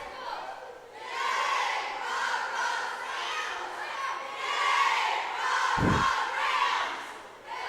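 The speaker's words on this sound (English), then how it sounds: "Dowling swimmers cheering on their visitors" Crowd of high school swimmers cheering and shouting at an indoor swim meet, a loud sustained roar of many young voices with rising and falling surges and one brief thud near the end.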